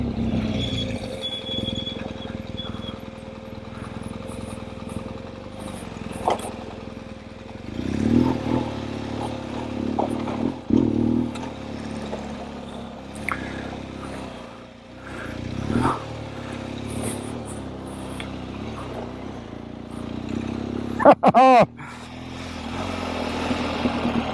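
Motorcycles ride over a rough, sandy road in Colorado or Utah, a moderate engine drone rising and falling with occasional revs and clattering bumps, and one sharp rising whine near the end.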